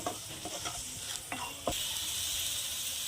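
Chopped onion and vegetables fry in a pan for flattened rice pulao, with a few scraping stirs of a spatula at first and then a steady, bright sizzle.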